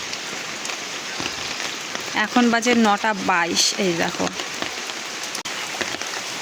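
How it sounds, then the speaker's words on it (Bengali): Heavy rain pours onto a flooded home courtyard with a constant close hiss and patter, while someone speaks briefly over the downpour in the middle. "এখনও বৃষ্টি থামছে না"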